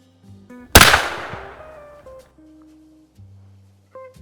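A single loud .308 Winchester rifle shot from a KAR-21 rifle cracks sharply, followed by a ringing echo that fades out over a few seconds, with faint tones around it.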